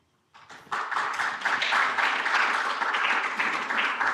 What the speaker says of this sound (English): I don't know if you can hear the audience was clapping